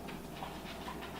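A dog pants in quick, soft, rhythmic breaths close by in an indoor room, heard faintly and alone with no talk.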